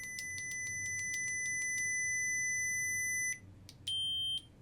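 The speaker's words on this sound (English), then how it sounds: "I hold the auxiliary button for 2 seconds until I hear a beep." A replica Anakin Revenge of the Sith lightsaber gives a quick run of about ten sharp electronic beeps, then a sustained steady tone and, after a short pause, a second shorter tone, close and clear with no talking.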